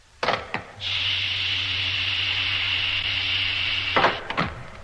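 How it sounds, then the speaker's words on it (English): A sliding door opening in a science-fiction radio drama: a couple of sharp clicks, then a steady mechanical whirring hum with a high tone that holds for about three seconds and ends with more clicks. "And open the door."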